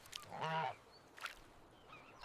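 A goose gives one loud, harmonic honk, followed by a couple of fainter, shorter calls in a quiet outdoor setting.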